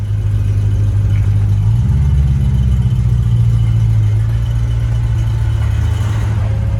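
A 2008 supercharged Range Rover Sport engine rumbles low and steady, its pitch rising slightly as it revs, then settling back to a constant hum.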